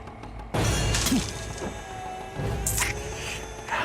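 Glass shattering in a fight scene from a Hindi-dubbed Telugu action movie: a loud crash bursts in abruptly, followed by further smashing hits and debris noise over a couple of seconds.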